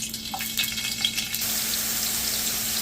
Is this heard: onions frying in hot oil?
yes